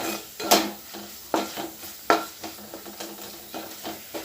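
A spoon stirs cooked rice into a tomato mixture in a pan, producing irregular scraping knocks against the metal over a soft sizzle, close and alone.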